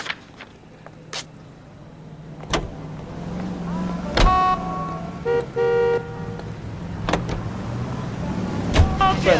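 Car engine and road noise while driving in the L.A. Noire game, a steady low hum with a few sharp knocks and a brief horn-like toot midway.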